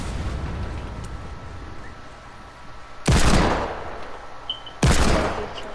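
Two loud pistol shots in the video game Fortnite, spaced under two seconds apart, each a sharp close blast with a short decaying tail over quiet game background.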